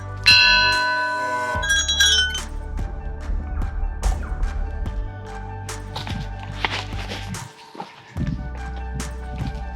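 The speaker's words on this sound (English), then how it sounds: "More bells. Oh, there's a big one." Bells ring repeatedly, bright tones with lingering decay, one larger deeper bell sounding among smaller chimes, fairly close, over faint background noise.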